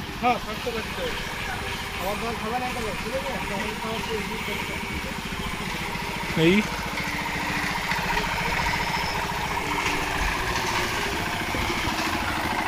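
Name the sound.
concrete mixer machine running for roof casting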